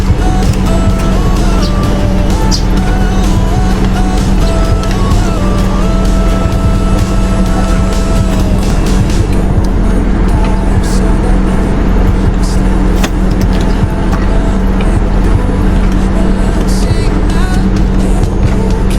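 Car driving near a riverside camping park in Botolan, Zambales, with a steady engine and road rumble throughout, plus scattered clicks and knocks from inside the vehicle.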